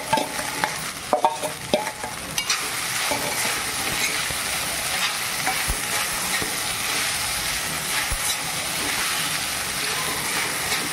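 Sago (sabudana) is stirred in a frying pan for sabudana khichdi. A few sharp clinks and scrapes at the start give way to a steady, loud sizzle and hiss that lasts to the end.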